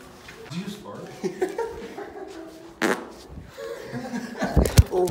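People chatter and chuckle, with a short, sharp fart cutting through midway, followed by more laughter and talk.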